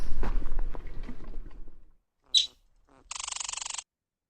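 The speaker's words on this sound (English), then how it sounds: "the marmot makes a little bit more of kind of a whistle" A marmot gives a short whistling chirp, followed moments later by a longer, buzzy, pulsed call, both fairly faint outdoors after some rustling and footstep-like noises.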